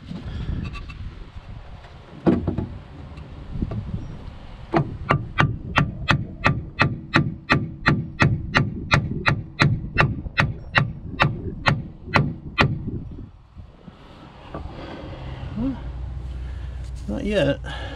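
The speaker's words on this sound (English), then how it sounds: "I grabbed a 4-pound sledge and a 2x4. So we're gonna try that." A 4-pound sledgehammer strikes a 2x4 to seat a steering box sector shaft seal on a Foretravel motorhome, with about twenty sharp, evenly spaced blows in a steady run, close and loud, and speech before and after.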